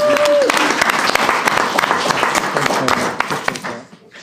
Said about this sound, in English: So I would like to give Tom a big round of applause.